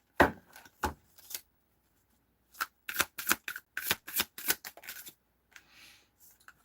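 Tarot cards riffled and shuffled by hand, a series of crisp papery bursts with short pauses between them, close and alone.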